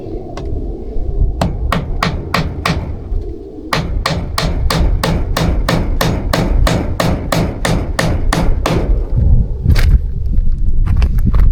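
Hammer blows drive nails into house siding in quick, steady succession, sharp close strikes about twice a second with a brief pause, then a final flurry of hits.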